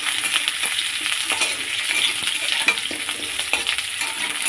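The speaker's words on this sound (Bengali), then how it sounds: "কটা পেঁয়াজ দিয়ে দিলাম, আলুর সঙ্গে ভাজা ভাজা হয়ে যাবে" Onions and potatoes fry in a pan with a steady, bright sizzle, stirred now and then with faint scraping and clinks, close and continuous with no talking.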